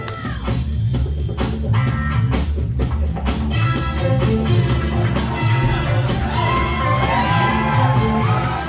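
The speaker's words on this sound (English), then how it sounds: "All right, the crowd goes wild." A comedy club crowd roars with sustained cheering, whoops and yelling, loud and continuous, with scattered shouts rising above the dense noise of the audience.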